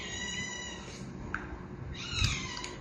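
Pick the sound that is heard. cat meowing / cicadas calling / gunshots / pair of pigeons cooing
cat meowing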